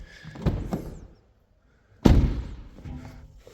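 A BMW X3 F25 car door being opened: a solid thunk of the latch and door, a pause of near silence, then a louder heavy thud with a short rattle, close by and without talk.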